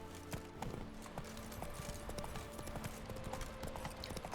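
Roach, a horse in The Witcher 3: Wild Hunt, gallops in a steady rapid clip-clop of hooves over game music, with no speech.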